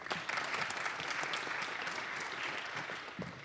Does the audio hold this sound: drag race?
no